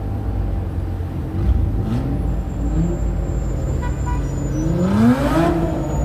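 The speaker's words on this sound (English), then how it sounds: "Whoa! Cool engine, bro." A car engine revs loudly nearby on the Las Vegas Strip at night, its pitch climbing and falling in repeated surges over steady traffic rumble.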